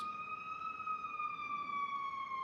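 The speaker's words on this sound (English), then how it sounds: "It wouldn't be North Patrol without a siren." A St. Louis police patrol siren wails steadily, its tone sliding slowly downward, heard alone at moderate distance.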